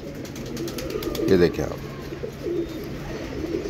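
A golden female pigeon gives a short, soft coo up close, partly under someone talking.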